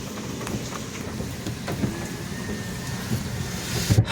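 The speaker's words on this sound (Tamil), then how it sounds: "மழை போதுமா?" Steady rain falling during a Chennai downpour, a continuous soft hiss close by with a few louder thumps near the end.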